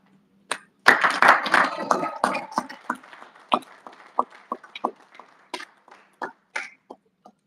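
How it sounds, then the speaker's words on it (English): A lecture audience at a Realnews anniversary and hall of fame event gives a brief burst of clapping that quickly thins into scattered individual claps and a few coughs, close and fairly loud. "I think she deserves a better round of applause"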